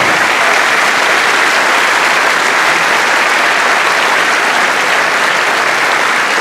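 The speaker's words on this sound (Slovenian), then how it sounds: "Jaz mislim, da se zaslužijo en velik aplavz" Loud, sustained applause from a large crowd at a live music show in Krško, dense and continuous throughout with no pauses.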